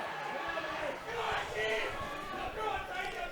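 Spectators at a Cork senior Gaelic football semi-final, St Finbarrs versus Castlehaven, shout and jeer in agitated bursts, with a commentator's voice running over the rising and falling crowd noise.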